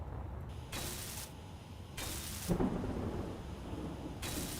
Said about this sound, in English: Heard lightning, which means irradiating storm is probably here again.